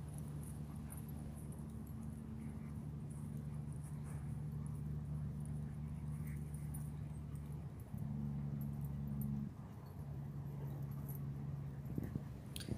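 Dogs sniff around an obstacle course for treats, giving faint whimpers and soft snuffling noises over a steady low hum and outdoor background noise.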